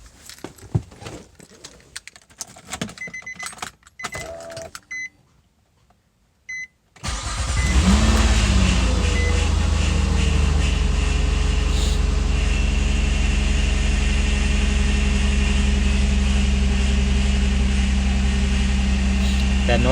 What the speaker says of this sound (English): That noise you're hearing is the power steering pump.